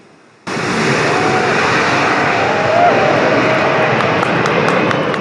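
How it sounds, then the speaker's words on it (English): Antonov An-178 military cargo aircraft on its first takeoff from Hostomel airfield near Kyiv, a loud, steady engine roar that starts suddenly and holds near-constant for several seconds. "the latest military cargo aircraft produced by Antonov plant, An-178, has made its first takeoff from the airfield in Hostomel near Kyiv"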